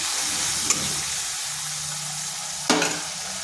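Ground coriander, turmeric and chili powder with spice paste sizzle steadily in hot oil in a pan for a Bengali kakrol (spiny gourd) dish, with two brief sharper crackles as ingredients are stirred, close and continuous.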